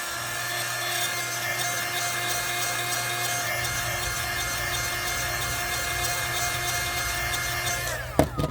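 A handheld dryer blows over wet paint on a decoupage craft piece with a steady, constant whirring hum and a sharp clatter at the very end.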